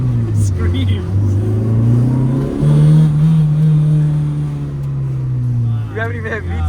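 Honda CRX engine revving hard from inside the car, a loud sustained drone that climbs and holds in pitch, with a brief voice near the end.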